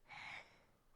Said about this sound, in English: The heavy breathing it's kind of creepy, bud.